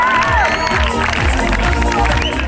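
An audience at a stand-up comedy show in Moshav Emunim bursts into loud applause and cheering, with dense clapping, whistles and shouts close by, sustained and energetic.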